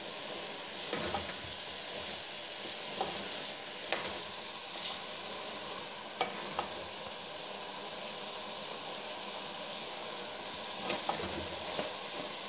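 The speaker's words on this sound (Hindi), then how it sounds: "पाँच मिनट के लिए अच्छे से भूनेंगे, तब तक अंडे और प्याज जो है वो ऑयल भी छोड़ देंगे।" Eggs and onions fry in oil with a soft, steady sizzle and occasional faint ticks and taps.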